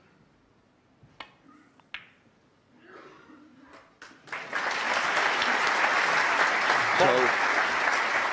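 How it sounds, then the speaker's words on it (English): Snooker audience at the 2018 World Championship first round breaks into sustained, dense applause for Ding Junhui after a few isolated claps and a brief spoken word, the clapping steady and fairly loud to the end. "a round of applause. Very popular player is Ding Junhui."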